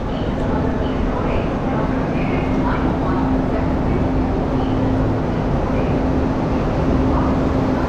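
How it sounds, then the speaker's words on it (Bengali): The Duronto Superfast Express from Howrah to SMVT Bengaluru makes a loud, unbroken rumble with a low steady hum throughout, and a voice speaks over the noise. "এটা হচ্ছে দুরন্ত superfast express Howrah two SMBT Bengaluru"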